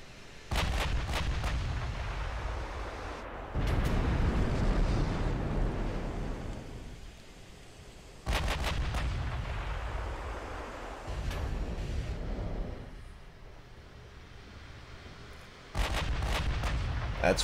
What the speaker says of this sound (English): Man, these guns are firing fast.